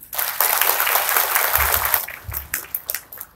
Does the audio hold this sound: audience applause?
yes